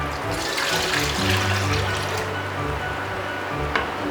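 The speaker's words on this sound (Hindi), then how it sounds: "एक कढ़ाई लिया हूँ और जिसमें मैं पानी डाल दूँगी।" Water poured into a kadhai (wok) for steaming a chena sweet cake, a steady close splashing and filling sound with a low hum, running continuously for about four seconds with no talk.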